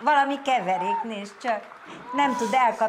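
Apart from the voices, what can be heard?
None of the usual background noises is heard.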